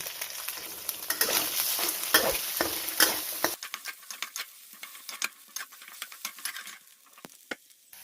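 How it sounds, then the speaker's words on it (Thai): Egg sizzling in a hot pan and being stirred while stir-frying instant noodles: a loud, crackling sizzle with scraping stirs that drops to softer, scattered spitting and patter partway through. "เติมไข่ลงไป รอไข่เซ็ตตัวแล้วก็คนนะครับ"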